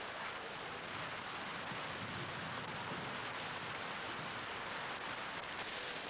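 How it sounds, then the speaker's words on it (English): Heavy tropical rain pours down steadily on Majuro Atoll in the Marshall Islands. The hiss is dense and unbroken and sits fairly far off and faint. "The rainy season brings heavy rains to the Marshalls every day."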